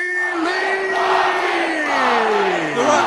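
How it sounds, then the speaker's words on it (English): A fight-night crowd cheers wildly for a hometown fighter, a loud, continuous roar of many voices with a long rising and falling yell cutting through. "The crowd are going mad. A lot of people on their feet."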